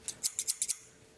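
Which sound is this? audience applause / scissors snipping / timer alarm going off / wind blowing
scissors snipping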